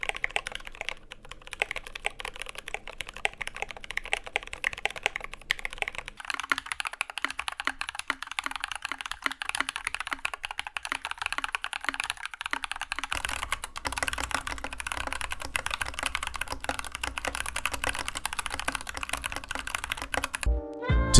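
Continuous typing on a mechanical keyboard fitted with Glorious Panda switches, then with the other two switches of the comparison, dense rhythmic key clacks running steadily and close up with no talk.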